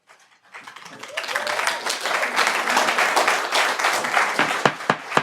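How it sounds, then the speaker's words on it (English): An audience at a town commission meeting breaks into applause, rising from silence into sustained, fairly close clapping from many hands that thins toward a few last loud claps. "I know you want to show your appreciation, but please do not applaud"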